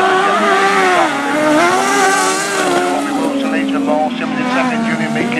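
Engines of 1000cc grasstrack sidecars racing, heard as a loud, continuous whining roar that rises and falls as they pass, with a commentator talking over it.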